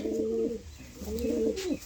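A fancy pigeon gives two throaty cooing phrases in quick succession, close and fairly soft, with a short pause between them and no talk.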